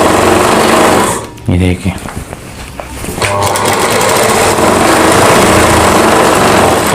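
Sewing machine stitching a Rajputi suit, loud rapid mechanical whirring that stops briefly while someone speaks, then resumes in a long continuous run.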